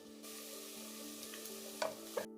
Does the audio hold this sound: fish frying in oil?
yes